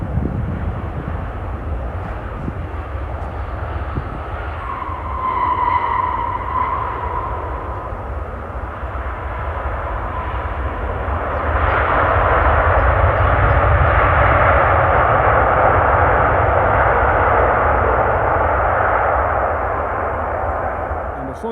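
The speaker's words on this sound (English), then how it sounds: "Textbook landing." A passenger airliner, a Saudia jet, lands at Manchester Airport, its engine roar a steady broadband rumble that swells and grows louder partway through, heard from a distance with no talk over it.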